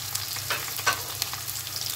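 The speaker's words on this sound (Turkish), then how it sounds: "Şunları güzelce bir kavuralım." Steady sizzling of peppers and onions sautéing in a pan, with a few soft clinks and stirring scrapes over the constant crackle.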